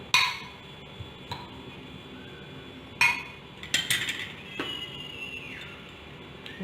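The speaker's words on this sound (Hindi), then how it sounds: "अब हम इसे अच्छे से मिक्स करेंगे।" A spoon mixing soya chunks and turmeric in a bowl makes close, scattered clinks and scrapes against the bowl, with irregular taps and a longer scraping stretch in the middle, and no talk.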